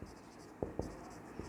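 Writing on a board during a physics lesson on resistors: a few short scratchy strokes close by, at a low level over quiet room noise.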